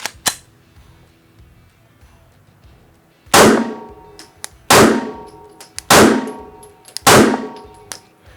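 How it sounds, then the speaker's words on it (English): A Rost Martin RM1C handgun fires four loud, sharp shots at roughly one-second intervals after an earlier faint pop, each crack ringing out with a clanging tail, close to the listener and with no talking. "Okay, so initial shots with this gun."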